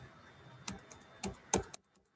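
A few distinct key presses on a computer keyboard as an amount is entered for village financial records, sounding as three or four separate clicks close up in a quiet room, with no talk.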